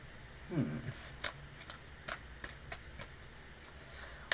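True Black Tarot cards being shuffled up close: a soft riffle burst early on, then a series of quiet, crisp card taps and flicks at irregular intervals over a low background hiss.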